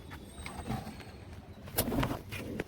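Pigeons in a rooftop loft give soft, low cooing calls, fairly faint against a light outdoor background, with a few brief sharper sounds scattered through.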